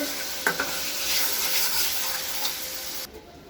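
Spice paste sautéing in a pan, a steady close sizzle with scraping stirring strokes that stops abruptly near the end.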